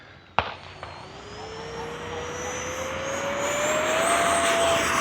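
A Freewing A-6 Intruder 80mm electric ducted-fan RC jet spools up for takeoff after a sharp click, its whine rising steadily in pitch and growing louder over several seconds outdoors.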